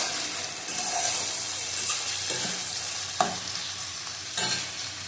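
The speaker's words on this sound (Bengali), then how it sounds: "ভালো করে ভেজে নেব" Mutton pieces fry in a pan for a Bengali spiced mutton dish, a constant dense sizzle with periodic scraping strokes of a spatula stirring the meat, no voices.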